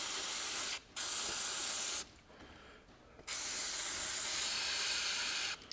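Aerosol brake cleaner sprayed onto a John Deere 1640 loader control valve, a steady close hiss in long bursts with brief breaks between them.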